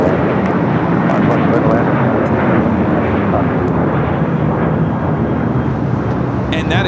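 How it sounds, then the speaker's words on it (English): A United Airlines Boeing 737-800 taking off from LAX: a loud, continuous full-power jet roar close by, with faint chatter in the background. "And that is United Airlines 319 taking off to Puerto Vallarta on the 737-800"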